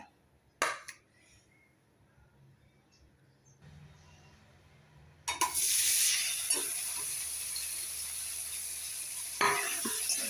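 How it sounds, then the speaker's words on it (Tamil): Cauliflower drops into hot oil in a frying pan and sets off a sudden loud sizzle that settles into a steady hiss, with a few clinks before it and a stirring scrape near the end; a voice talks faintly beforehand. "லேசாக வறுத்து எடுத்துக்கிடுவோம்."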